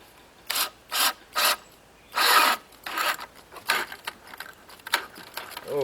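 A Bosch drill bit bores through heavy oak in loud, close, grinding rasps that come in short separate bursts, then in rougher and more broken chewing as the bit works into the hard wood.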